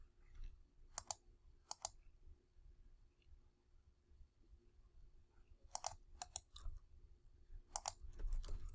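Quiet computer keyboard keys are tapped in short clusters of sharp clicks with pauses between, heard close against a low background hum and no talk.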